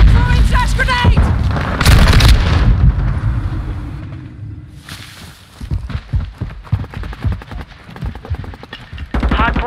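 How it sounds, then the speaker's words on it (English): Flash grenade thrown in the Call of Duty: Modern Warfare II hardpoint match, a loud burst and boom amid bursts of gunfire, with in-game voice callouts heard between the blasts. "Throwing flash grenade!"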